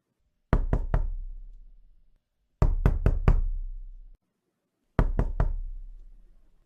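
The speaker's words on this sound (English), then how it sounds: "Do I hear a knock at the door?" Knocking on a door in a Christmas radio play comes in three separate bursts of three to four sharp raps each, with pauses of silence between the groups.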